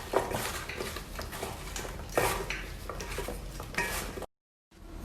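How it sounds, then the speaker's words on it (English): Cauliflower and potato being mixed into pakora batter in a bowl, with continuous clattering, scraping and stirring at close range. The sound stops briefly before resuming. "Mix a little bit mix well."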